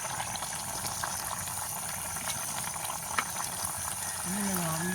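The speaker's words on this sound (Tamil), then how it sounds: "நல்லா கொதிச்சு அவிஞ்சு வந்துடும்" Pot of sliced broad beans (avarakkai) boiling on a village stove, a steady close bubbling and hiss that runs throughout at even level, with a faint voice near the end.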